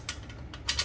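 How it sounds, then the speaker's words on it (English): 17mm ratchet loosening an M10 bolt on a 45-degree chair's spring: a few quick, close metallic ratchet clicks in a brief burst, with no talk. "I'm going to use my 17 ratchet here"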